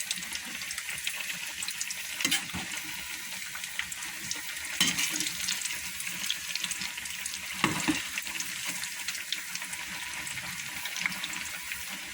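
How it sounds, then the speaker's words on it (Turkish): Steady crackling sizzle of yogurt balls frying in hot oil, continuous and close, with a few brief louder clinks and bumps along the way. "yandan da diğerleri kızarmaya devam ediyor"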